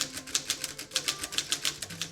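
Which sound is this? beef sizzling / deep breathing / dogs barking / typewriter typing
typewriter typing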